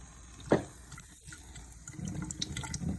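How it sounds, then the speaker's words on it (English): A gentle, steady stream of water poured around a pool's suction fitting, a soft continuous trickle and splash with one brief louder splash near the start. "you want a steady, gentle stream so that water falls all the way around the fitting"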